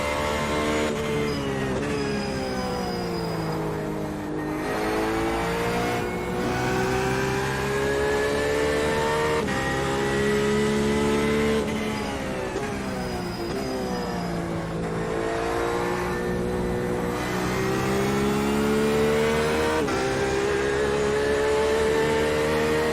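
Porsche 911 RSR race car engine revving hard and accelerating through the gears at Watkins Glen, loud and continuous throughout with rising and falling pitch during shifts, heard from onboard.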